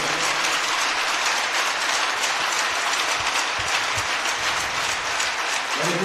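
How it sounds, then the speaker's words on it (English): A men's ice hockey arena crowd claps steadily for breast cancer survivors, a thick continuous roar of applause that fills the rink at even volume throughout. "Let's give it a round of applause for all the survivors here today."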